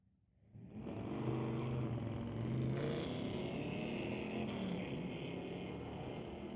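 A Dodge Dart drag racing at Mission Raceway Park on street-legal night gives one loud, sustained engine roar that climbs in pitch through the gears. It starts abruptly and stays strong and steady to the end, with no talk.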